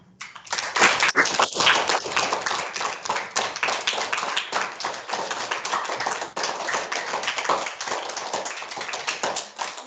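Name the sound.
school assembly clapping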